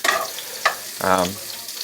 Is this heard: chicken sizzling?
yes